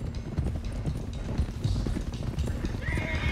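Horses in the video game Red Dead Redemption 2 clip-clop steadily at a quick pace, and a whinny rises near the end over the hoofbeats.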